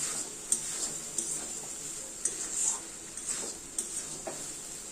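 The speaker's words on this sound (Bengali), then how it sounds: "ঘুগনি মশলা দিয়ে আবার ভালো করে কষাতে হবে" Ghugni is sautéed with masala in a pan, giving a faint sizzle under soft, irregular stirring clicks and scrapes of a spoon, quiet and close, with no talk.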